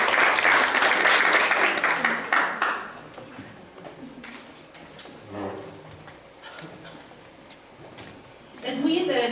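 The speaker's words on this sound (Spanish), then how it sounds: "Un aplauso para todos." A small class audience at a church preaching course applauds after student presentations, a loud burst of clapping that fades after a couple of seconds, followed by scattered taps and talk, then a brief second flurry near the end.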